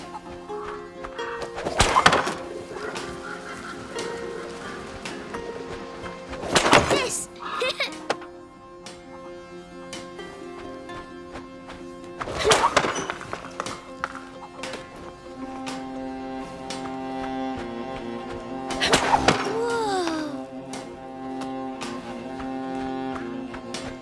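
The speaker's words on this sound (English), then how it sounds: "You have 6 stones, 6 possible shots. Try and shoot as many targets as possible." Stones slung at targets in the video game A Plague Tale: Innocence, a few separate sharp impacts spaced several seconds apart over a steady musical background, with faint talk.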